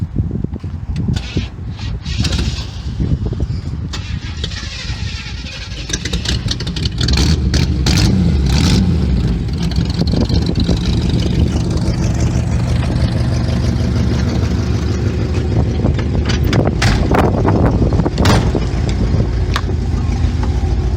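A 1962 Chevrolet Impala with a 283 V8 and old cherry bomb exhaust cranks, catches and settles into a loud, rough running rumble close to the microphone, with occasional clicks and knocks over it.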